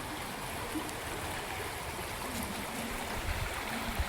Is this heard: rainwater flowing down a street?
yes